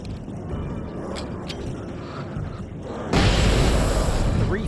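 A flashbang goes off in the video game Alan Wake Remastered, a sudden loud broadband blast that cuts in over a low rumbling ambience and lingers as a dense roar.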